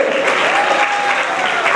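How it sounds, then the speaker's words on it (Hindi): An audience at a religious gathering welcoming Jain monks in Aligarh claps steadily and loudly, a dense wash of applause with no pauses across the short stretch. "ताली बजाते जाइए।"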